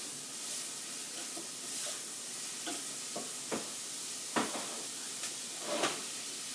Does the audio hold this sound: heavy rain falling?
no